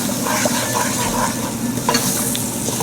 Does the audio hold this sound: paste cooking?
yes